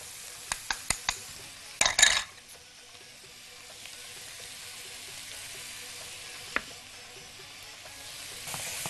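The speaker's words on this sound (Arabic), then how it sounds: "شويه زيت نزلت عليهم بالسوسيس، حبه الثوم شوحت كله، نزلت بالفلفل الالوان" Sausage, garlic and colored bell peppers are sautéed in oil in a pan, with a few sharp utensil knocks and a stirring scrape up front, followed by a faint steady sizzle and one more clack.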